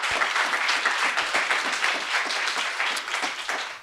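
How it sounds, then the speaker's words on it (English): An audience at a county debate gives a round of applause, moderately loud clapping that runs steadily throughout before cutting off at the end. "let's give him a round of applause."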